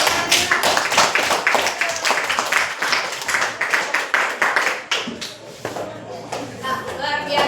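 A classroom of students claps together during an English lesson, loud and close, with bursts of rhythmic clapping that thin out toward the end amid shuffling and some voices.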